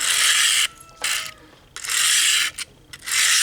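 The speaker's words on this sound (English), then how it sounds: "that 300 grit sounds way coarser than the 200" A blade stroked across a Harbor Freight 300 grit diamond hone, from a four-sided hone block, gives loud, coarse rasping scrapes in three long passes with short pauses between, close up and with no talk.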